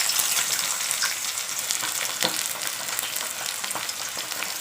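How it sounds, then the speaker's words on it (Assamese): Onions frying in hot oil in a wok, a loud bright crackling sizzle that stays steady throughout, with occasional clicks of the pan. "মই এতিয়া পিঁয়াজখিনি দি দিছোঁ।"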